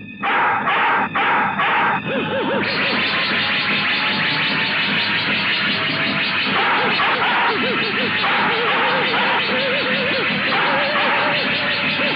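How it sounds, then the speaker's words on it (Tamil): Hunting dog barking and yelping as it chases a deer, repeated loud barks over a busy, dense film soundtrack with effects and roosterlike calls mixed in. "யாரோ வேட்டை நாயை விட்டுருக்காங்க. அது மான துரத்திட்டு போகுது."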